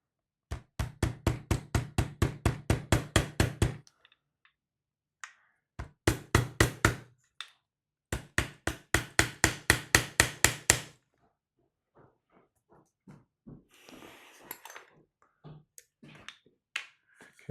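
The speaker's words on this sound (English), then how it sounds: "Might just do a little hammer and just make sure it's seated fully in." A hammer taps a pin into a 3D printed front end for a Saiga 12K, landing in quick, even bursts of sharp knocks separated by short pauses, followed by a few scattered lighter taps and faint handling noises.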